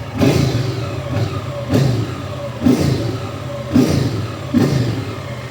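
A 2015 Hyosung ST7 700i motorcycle in factory condition runs steadily at close range, its engine note swelling in four evenly spaced surges over a constant idle-like rumble, with no voices.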